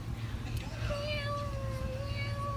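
A recorded cat meow played back in a classroom, a drawn-out tonal call rising and sliding over a steady low hum and background chatter.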